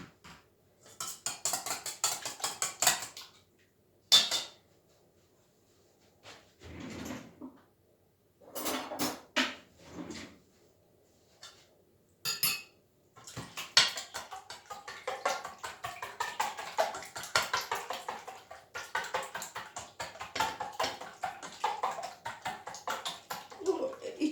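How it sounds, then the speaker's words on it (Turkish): Eggs for a börek filling being mixed in a bowl, heard as intermittent clinking and rapid tapping of a utensil against the bowl, with pauses and occasional nearby voices. "Burada kapta yumurtalarımızı karıştırıyoruz"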